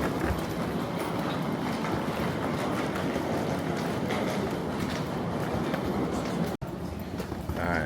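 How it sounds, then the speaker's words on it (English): An airport train at Taoyuan Airport, Taiwan, rumbles and roars steadily, with constant broadband noise and faint voices in the background. "So we're taking the airport train here."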